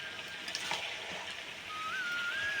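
Fish frying in a pan in a home kitchen gives a steady, fairly faint sizzle that runs throughout with no talking over it.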